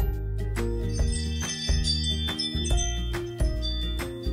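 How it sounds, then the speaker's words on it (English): A Ring Chime sounds its motion alert, a series of clear chiming tones stepping through a short repeated melody, loud and alone over about four seconds. "And motion alerts sound like this."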